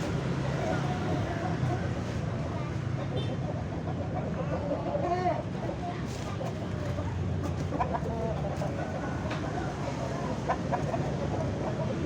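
A rooster and other chickens cluck at a busy Indonesian market where a roughly 3-kilo bird is being sold, their calls rising intermittently over a constant crowd murmur and nearby talk.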